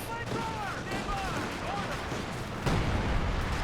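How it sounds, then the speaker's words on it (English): Artillery fire in a Company of Heroes match: booming shell impacts and scattered gunfire. A heavier blast lands near the end, and brief in-game voices come through the din. "Major artillery is successful at driving him away"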